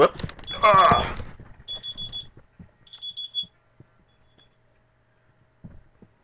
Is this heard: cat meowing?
no